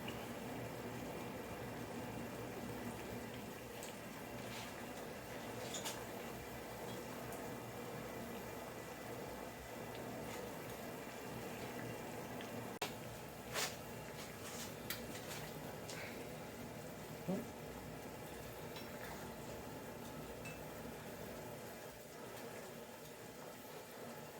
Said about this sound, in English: See here it's going, all the bubbling, that's the water evaporating.